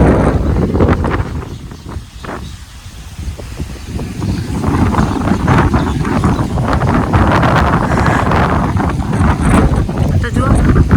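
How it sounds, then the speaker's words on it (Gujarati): Strong storm wind on a rooftop roars and buffets the microphone in loud, continuous gusts that ease briefly before surging again, while a person talks over it. "તો જુઓ એટલો પવન ચાલુ છે, એટલો પવન ચાલુ છે ને"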